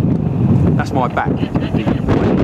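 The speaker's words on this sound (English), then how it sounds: "Lovely strong wind." Strong wind blows over Bray Lake during boat tests, buffeting the microphone with loud, rumbling gusts, while a voice briefly speaks over it.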